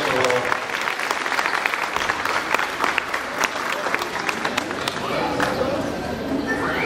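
Steady applause from a crowd of families at a primary school graduation ceremony, continuous clapping with scattered louder claps and background chatter, with a voice audible through it.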